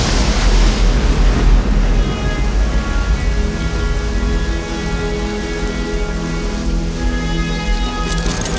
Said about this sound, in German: Nur eine Welle!